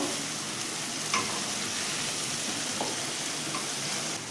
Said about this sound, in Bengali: আদা রসুনের পেস্টটা দিয়ে দিচ্ছি আদা রসুনের কাঁচা গন্ধটা যাওয়া পর্যন্ত এটাকে খুব ভালো করে কষবো